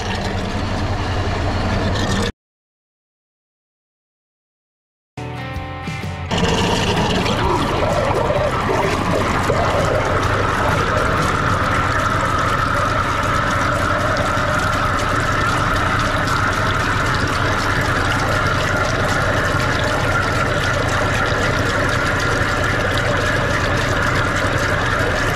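Gramin B liquid poured into a sprayer tank in a wheat field, a continuous gushing trickle with steady rushing noise after a brief silent gap near the start.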